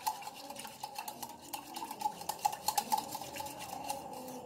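Spoon stirring tragacanth gum (gond katira) into water in a bowl, producing a continuous scraping swish with light clinks against the vessel, steady and close, no voices.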